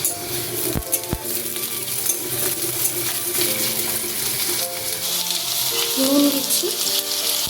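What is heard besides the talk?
potatoes frying in hot oil in a wok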